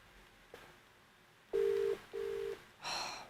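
An outgoing telephone call rings on the line as two clear electronic ringback bursts with a short gap between them, followed by a soft breath. No one speaks.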